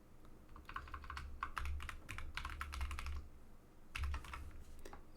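Someone types a sudo password on a computer keyboard, a quick cluster of close, soft key clicks in short bursts with pauses, no voices.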